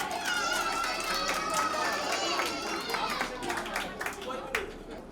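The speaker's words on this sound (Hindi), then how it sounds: "जोरदार तालियां इनके लिए।" Audience applause and clapping at a kids' convention for two pastors, with a crowd chattering and cheering throughout, dense and steady, a voice calling out over it.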